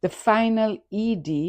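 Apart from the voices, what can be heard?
No everyday noises stand out.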